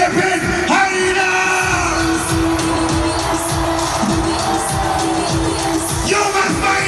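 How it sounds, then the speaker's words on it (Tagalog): A huge stadium crowd at a political proclamation rally in the Philippine Arena shouts and cheers continuously, a loud dense roar of yelling voices filling the space throughout. "Yung mas maingas na sigawan mula sa Philippine Harina!"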